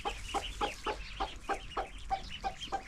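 A hen clucks in a steady, rhythmic series of short calls close by, about three or four per second, with soft peeping in the background.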